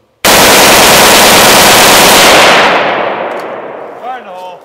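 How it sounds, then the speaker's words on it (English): A bump-fired rifle rips off a rapid, very loud burst of gunfire outdoors at close range. The shots blur into one roar that cuts off and fades into a ringing tail. "I'm just gonna bump fire last with the mag just so it's too much fun."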